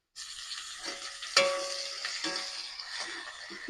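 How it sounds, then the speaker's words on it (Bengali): Onion fries with ginger-garlic paste in a pan, a moderate continuous sizzle broken by stirring strokes and one sharp metallic clink early on. "পেঁয়াজটা আমি লাল লাল করে ভেজে নেব এবার দিয়ে দেবো আদা রসুন বাটা"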